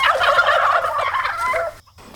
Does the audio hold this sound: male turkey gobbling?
yes